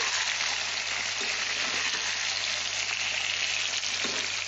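Tomatoes for pickle fry in hot oil in a pan, a dense, even, loud sizzle running without pause, close up with faint stirring touches and no voices.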